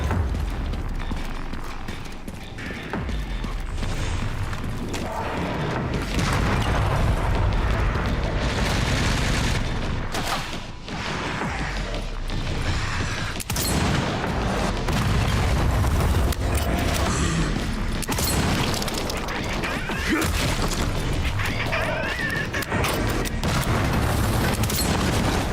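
Booming rocket explosions in the video game Resident Evil Requiem, a dense, sustained roar of blasts and rumbling debris that stays loud for the whole stretch, with a brief dip partway through.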